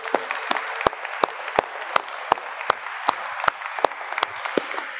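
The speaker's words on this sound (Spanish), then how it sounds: "Demos un aplauso al Señor" A church congregation claps in praise of the Lord, sharp hand claps landing on a steady, even beat over a softer wash of crowd clapping throughout.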